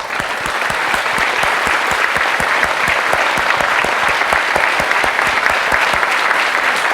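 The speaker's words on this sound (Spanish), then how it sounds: "vamos a aplaudir como si lo aplaudiéramos" A live audience claps steadily through the whole stretch, dense and even, at a healing-with-hands talk. The applause is loud and close, with no voices over it.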